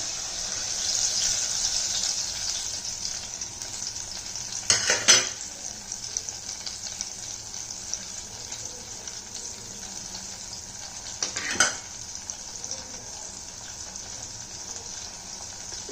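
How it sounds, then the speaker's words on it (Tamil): Crushed fenugreek seeds and chillies sizzle in hot oil for citron rice, a steady close hiss that runs throughout, with two brief clatters of utensil against the pan and no voices. "இந்த வெந்தயமும் மிளகாயும் ஒன்று ரெண்டாக தட்டியிருக்கேன் அதை முதல் போட்டுட்டு"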